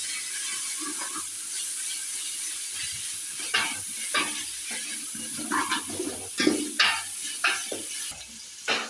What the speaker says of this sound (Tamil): அதே மாதிரி கொத்தமல்லியும் போட்டுக்கிறோம். இது ரெண்டும் நல்லா வதங்கணும்.